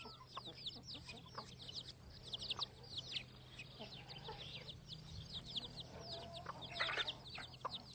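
Chickens in a farmyard, a hen leading her chicks, with steady high peeping from many chicks and occasional clucks, under a low continuous background hum.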